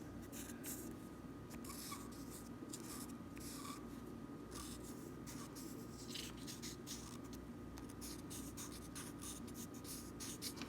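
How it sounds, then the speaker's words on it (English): A 4B soft pencil scratches across paper while outlining shapes in a chalk and charcoal birch tree drawing, close and quiet, with short repeated strokes and steady rubbing scratches throughout, no talking. "I'm going to come in here with this pencil, kind of outline those spaces"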